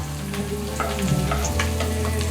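Mutton pieces frying in oil with masala in a home kitchen pan, a steady dense sizzle with occasional stirring scrapes, close and fairly loud throughout.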